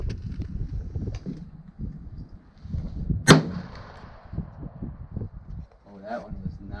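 A single muzzleloader shot using Federal 270 grain bullets over Blackhorn powder cracks sharply and loudly midway, followed by a brief decaying echo, with wind noise and talking around it outdoors.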